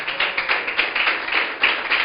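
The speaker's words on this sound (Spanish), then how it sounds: "Aplauda al Señor." A church congregation claps in uneven bursts of applause. The clapping is fairly close, with no voices over it.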